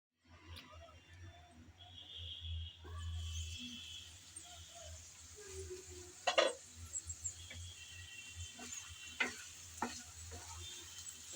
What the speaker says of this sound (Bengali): ঢাকনা খুলে আমি ভালোভাবে একটু নেড়েচেড়ে মিশিয়ে নিচ্ছি।